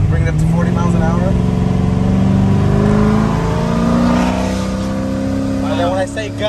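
A 750-horsepower Procharged C7 Corvette accelerates in second gear, a loud steady engine drone with rising harmonic tones running throughout, with people talking over it.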